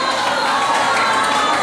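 Concert crowd cheering in a dense, continuous roar of many voices, loud and close, with no break or single voice standing out.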